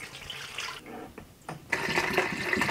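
Water pours in a steady splashing stream into the tank of a LetPot LPH MAX hydroponic garden, with a brief pause and then a fuller, louder pour.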